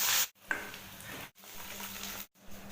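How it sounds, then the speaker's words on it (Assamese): Panch phoron spices sizzling in hot oil in a home kitchen, a steady bright crackle in short bursts broken by brief silent gaps, close and moderately loud with no talk. "তেল গৰম হ'ল, ইয়াতে মই পাঁচফোৰণ দি দিছোঁ নামমাত্ৰ।"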